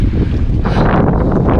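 Strong wind blasting across the microphone on a mountain climb up Flagstaff in a snowstorm, a loud continuous roaring rush that swells midway.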